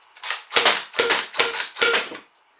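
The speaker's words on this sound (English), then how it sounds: "it also has slam fire" A 3D-printed Gecko foam dart blaster slam fires five times in an even rhythm, each shot a sharp, close, bursting whoosh with a mechanical clack, followed by silence.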